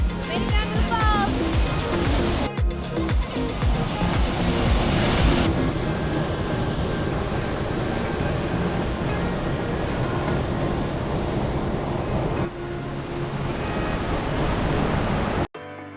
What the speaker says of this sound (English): Made it down to the falls.